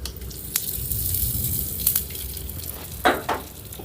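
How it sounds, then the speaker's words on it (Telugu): Hot oil sizzles and crackles steadily as a spice tempering with curry leaves is added to chutney, with a few sharper bursts of spattering and stirring scrapes near the end. "పోపు బాగా వేగిందండి ఇప్పుడు మనం చట్నీలో వేసేసుకుందాం"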